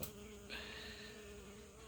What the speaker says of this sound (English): while my little bees come up here and just crowd me